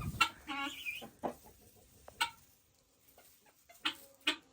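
Chickens cluck in a snowy farmyard coop, a few short, scattered clucks and calls close by with quiet gaps between them.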